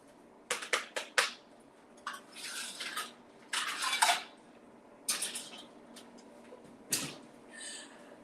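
A metal skillet is pulled out of the oven where it is stored, with sharp clanks and scrapes of cookware in several close bursts over a quiet room.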